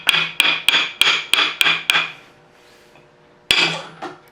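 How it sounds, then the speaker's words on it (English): A brass hammer taps the end cap off a Bridgeport milling machine power feed, seven sharp metallic knocks in a quick steady run, a pause, then one more strike and a faint follow-up. "it just a couple taps with the brass hammer"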